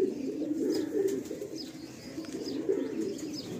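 Domestic Andhra pigeons in a loft give soft, low repeated coos close by, with a few faint higher chirps scattered over a quiet background.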